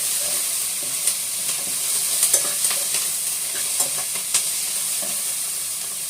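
Onions frying in oil as seasoning for sambar: a steady bright sizzle, close and continuous, with occasional soft stirring scrapes and pops, no voices.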